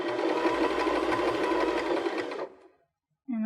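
A Baby Lock BL9 sewing machine stitching a narrow zigzag runs at a steady, rapid whir for about two and a half seconds, then winds down and stops, followed by a brief pause.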